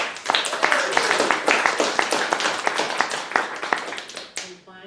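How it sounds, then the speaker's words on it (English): A church congregation at a Sunday spiritual service claps together in a dense, steady wave of applause lasting several seconds, with scattered voices under it before the clapping tapers off. "So clap for those wonderful gifts."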